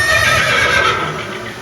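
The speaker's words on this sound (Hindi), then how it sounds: "ये दृश्य महाराणा प्रताप और सुविख्यात स्वामी भक्त घोड़े चेतक के अंतिम मिलन का है" A horse neighs loudly and steadily through the whole stretch, a long whinny with no talk, in a scene of Maharana Pratap and his famed loyal horse Chetak after the Battle of Haldighati.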